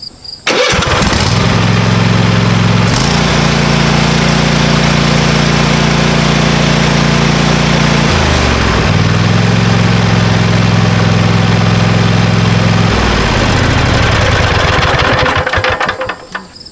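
A warm Cub Cadet XT1 LT50 lawn tractor engine cranks and starts, then runs loudly nearby, shifting between two steady idle speeds before dropping back and cutting off.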